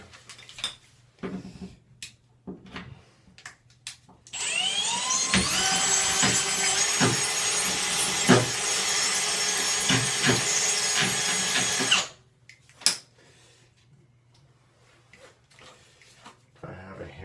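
A power drill spins a bit inside a hole, wiggled to widen it, a loud continuous whine lasting several seconds between scattered clicks and handling knocks, with quieter handling before and after.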